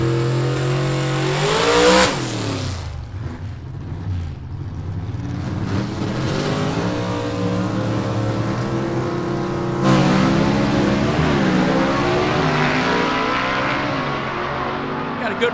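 A 1953 Chevy gasser at a drag race, its engine roaring loudly with rising and falling revs and a sharp surge partway through, heard up close and continuously throughout.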